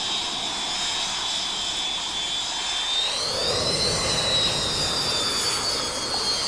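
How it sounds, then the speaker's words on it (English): Jet engine of an A-6 Intruder in the FSX flight simulator, a steady loud turbine whine and roar that swells and rises in pitch partway through a turn, with no talk. "I love the sound of that engine, though."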